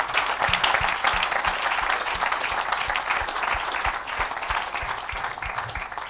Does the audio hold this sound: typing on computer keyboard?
no